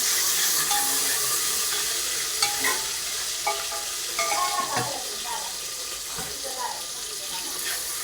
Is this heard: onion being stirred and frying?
yes